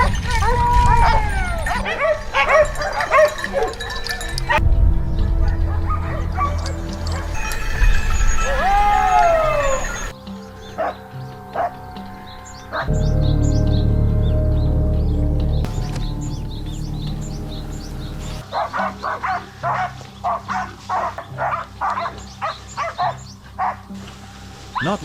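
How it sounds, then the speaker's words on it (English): Hunting hounds bark, yip and whimper in the woods during a wild boar hunt, with bursts of close, excited barking broken by quieter stretches, birds calling in the background and rustling movement. "the hounds suddenly growled and charged toward a thick patch of brush"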